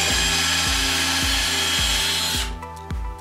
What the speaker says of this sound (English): I'm going to find the center of my dowel and drill a guide hole down the center.